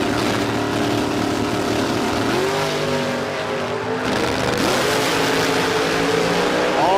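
A dragster and a Cortina launch side by side at a drag racing meet in Adelaide, loud, sustained engine roar with rising revving pitch as they accelerate down the strip.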